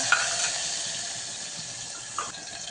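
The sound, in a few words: sautéing tomatoes and curry leaves in a pan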